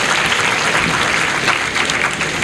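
Loud, sustained applause from a conference audience honouring His Excellency, a thick continuous wash of many hands clapping at once, close and steady throughout.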